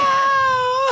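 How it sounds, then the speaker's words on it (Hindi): A woman's crying in a forest scene from a Hindi folk drama (nautanki): a sustained, wavering wail with strong tonal harmonics, loud and close, holding steady for under a second. "और इस बियाबान जंगल में ये औरत की रोने की आवाज"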